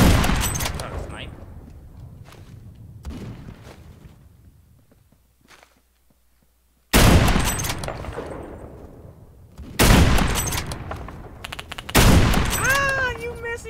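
Sharp bursts of game gunfire in Roblox Phantom Forces come in loud clusters of rapid shots with echoing tails, separated by quieter gaps and footsteps.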